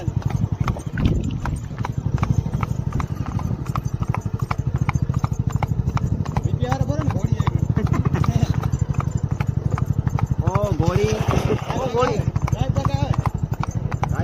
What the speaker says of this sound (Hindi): ये देखिए घोड़ा पवन, ये अभी अदात बच्चा है